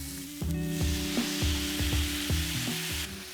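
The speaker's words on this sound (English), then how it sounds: "Continue to stir fry until the liquid is reduced." Burdock root stir-fries in sauce in a hot pan, giving a loud continuous sizzle with repeated scraping clanks of the utensil as it is stirred.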